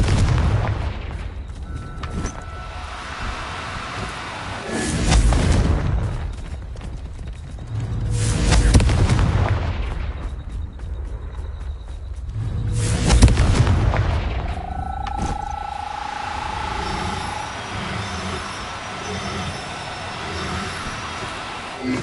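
Confringo blasting spells go off in Hogwarts Legacy, a series of loud booming explosions that burst roughly every four seconds, each swelling and fading into a rumbling tail, with a rising magical whine near the end.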